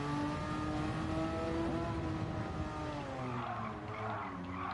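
Engine of a 1973 Porsche 911 Carrera race car in a racing video game, a steady near harmonic drone that rises and dips with throttle, with some tire noise toward the end.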